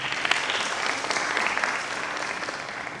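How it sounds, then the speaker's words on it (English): Applause from an audience at an International Women's Day event forms a continuous wash of many hands clapping, fairly loud and even for the whole stretch. "Let's give her a round of applause."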